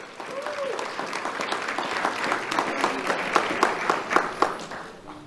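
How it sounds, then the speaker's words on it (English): Audience applause for an honoree at a Do The Right Thing awards ceremony, a dense sustained wash of many hands clapping that swells with sharper claps near the end, with faint voices underneath. "Let's have a round of applause for David Wolfson."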